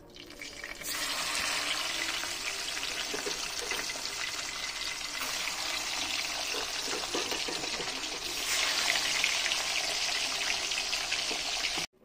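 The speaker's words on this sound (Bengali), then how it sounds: "এই 3 পিস মাছগুলো ভেজে নেব।" Three pieces of hilsa fish fry in oil for a biryani, a steady crackling sizzle that rises after a short quiet start, swells louder partway through and stops suddenly at the end.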